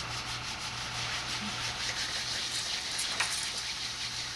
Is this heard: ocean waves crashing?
no